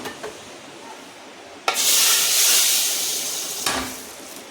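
Kashmiri red chilli powder hitting hot oil for a dal tempering, a sudden loud hissing sizzle that bursts in, holds for a couple of seconds, then flares again briefly.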